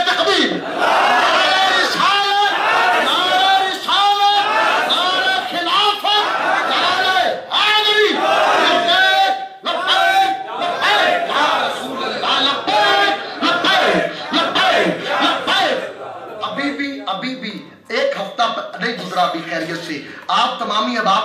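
A large crowd at a religious seminar roars the Takbir slogan in repeated loud unison calls answering a leader's shouts, the chants surging in waves with brief pauses between, close and dense with many voices.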